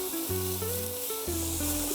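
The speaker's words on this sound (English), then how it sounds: "adding our olive oil, and we're going to add our onions, celery, carrots, of course your garlic." Onions, celery, carrots and garlic sizzle in olive oil in a pan with a steady, soft hiss. A low background tone hums underneath.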